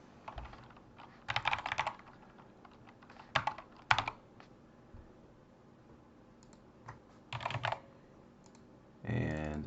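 A username is typed on a computer keyboard in scattered bursts of close key clicks, separated by quiet pauses, with a final quick run of keystrokes.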